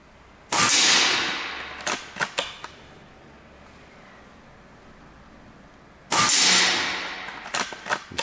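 Two loud sharp shots from a rifle fitted with a night vision scope and illuminated reticle, each ringing out with a long fading tail and followed by a few softer clicks, several seconds apart.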